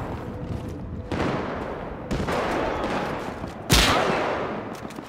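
Rapid volleys of gunfire in a GTA V zombies firefight against mercenaries, dense bursts with sharp onsets around the one-, two- and near four-second marks, loud and close with continuous crackling shots between them.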